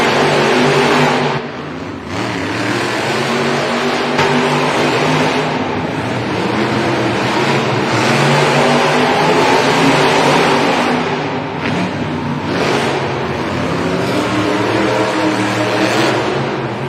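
Monster trucks racing in a JCB Racing head-to-head at a Monster Jam arena event in Rosemont, Illinois, their engines roaring loudly and continuously, with revving surges and brief dips in pitch throughout.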